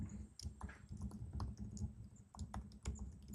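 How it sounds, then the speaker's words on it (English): Quick, irregular clacking of keys on a computer keyboard, close up, in short bursts with brief pauses between. "I'm having a hard time typing today."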